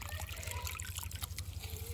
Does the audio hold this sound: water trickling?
yes